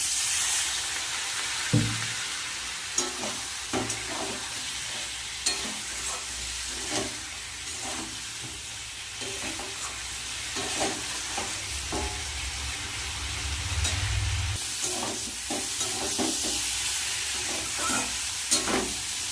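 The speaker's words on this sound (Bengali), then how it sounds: "অল্প করে একটু জল দেবো" A splash of water hits frying spice paste in a pan for a thin Bengali bata fish curry, giving a loud steamy hiss and sizzle that persists, with occasional stirring scrapes and clinks close by.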